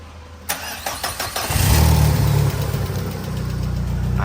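A Tata CNG vehicle engine cranks with a few rapid clicks, then catches and settles into a steady, loud idle close by after an ECU replacement.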